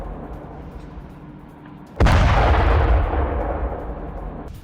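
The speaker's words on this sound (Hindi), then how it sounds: "बमबारी से सैन्य गोदाम में भीषण धमाका हुआ" Bombing of a military warehouse, heard as one sudden, heavy blast about two seconds in, cutting through a low background rumble and then fading into a long, roaring decay.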